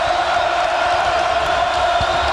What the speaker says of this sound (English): And this crowd comes to life again.